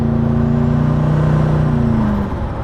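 A Koenigsegg Regera hypercar accelerates hard at 70% throttle, a loud steady interior drone with a rising engine tone and rushing road noise that eases slightly near the end.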